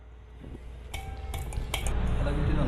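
A ratchet works the valve on an R22 refrigerant gas cylinder, giving a few sharp metallic clicks and clanks near the middle over a low background rumble that grows gradually louder.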